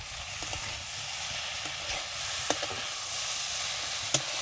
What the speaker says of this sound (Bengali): এবার একটু আমি খুন্তি দিয়ে নাড়িয়ে দেবো